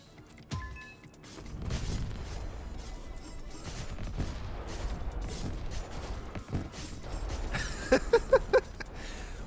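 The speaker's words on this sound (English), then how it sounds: "When a rain of fire comes in and it gets the death explosion at the same time" Dense combat noise from the action roguelike Battlethorne Survivors, with rumbling blasts and crackling fire from a rain of fire, ending in a quick burst of four sharp death-explosion hits.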